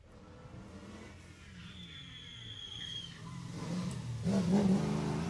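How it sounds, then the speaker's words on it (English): A Triumph TR7 rally car engine grows louder as it approaches on a Jersey Rally stage, revving up to a loud roar near the end. "Triumph TR7 there, car 13. Just coming through this stage."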